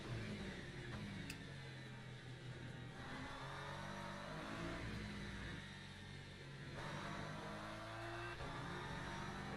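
Race car engine in the Le Mans Ultimate racing game easing off as the throttle is lifted, a steady loud droning roar with layered engine harmonics that dips and swells across the run.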